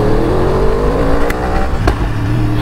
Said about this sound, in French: V8 biturbo, on le présente plus, j'ai 63.